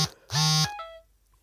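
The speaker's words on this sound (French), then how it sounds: "Désolé pour la sonnerie." A phone ringtone sounds in short electronic bursts, a brief tone followed by a longer buzzy chime that fades with a trailing note.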